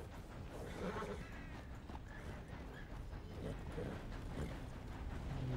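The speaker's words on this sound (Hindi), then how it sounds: "ओके, सामने से घोड़ा आ रहा था," A horse approaches in Red Dead Redemption 2, with hoofbeats and a whinny set against a dense, steady wash of game background noise.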